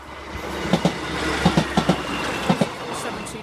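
Class 156 diesel train passing a level crossing at Collingham/Swinderby Road in Nottinghamshire, with rhythmic clickety-clack wheel beats over rail joints in paired clusters over a steady rumble, moderately distant.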